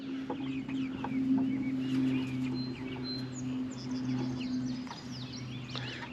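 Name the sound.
chickens clucking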